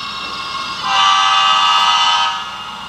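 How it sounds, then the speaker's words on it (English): A Bachmann HO scale Siemens ACS-64 model locomotive's stop horn blares steadily for about a second and a half over a constant motor hum, then fades back down. "when I get to the lowest point before the engine shuts down, you'll hear the stop horn."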